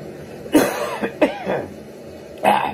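Three sharp, close coughs spaced apart, the last one loudest, with quiet room tone between them.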